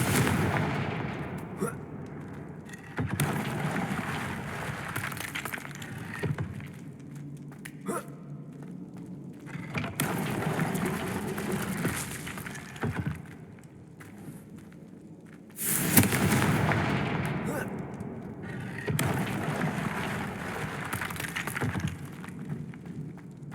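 Confringo explosive spells and other combat blasts in Hogwarts Legacy, heard as repeated booming, crackling bursts separated by short gaps, each loud impact trailing into rumbling debris and effects.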